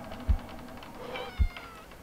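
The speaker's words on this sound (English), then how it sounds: "That's a cat." A cat in a horror video game gives soft meows over a quiet ambient background, with two low thumps standing out briefly.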